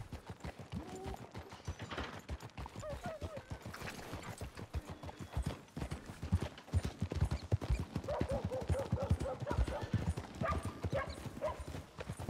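Horse hooves clip-clopping in a steady, close rhythm throughout a ride in Red Dead Redemption 2, with a faint whinny and light game ambience beneath.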